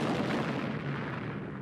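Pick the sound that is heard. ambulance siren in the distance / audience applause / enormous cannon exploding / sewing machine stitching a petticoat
enormous cannon exploding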